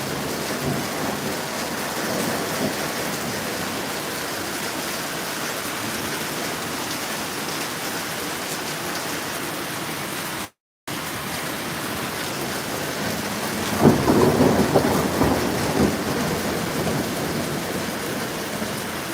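Thunderstorm with hail and rain in a mountain village near Mezitli, Mersin: steady heavy rainfall with distant rumbling thunder, a brief dropout, then a louder burst of pounding precipitation toward the end.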